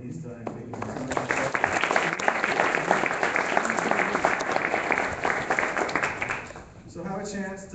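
Audience applause for a man named Bob, a sustained round of clapping filling most of the moment at a community event on religious communities, fading near the end as a voice begins speaking.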